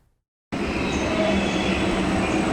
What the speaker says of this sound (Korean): 충주역에서 출발한 KTX 이음 열차가 문경역에 도착했습니다.